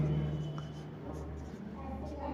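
Pen or chalk writing out a physics equation, a faint scratchy stroke sound heard close under a voice talking during a classroom lesson.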